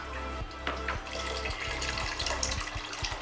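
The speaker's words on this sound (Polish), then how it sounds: "Jeszcze trochę wody dolejemy." Water pours from a tap into a pot while Chinese soup broth is made with ginger, chili, onion and garlic, a steady close splashing stream with faint rhythmic clinks, no talking.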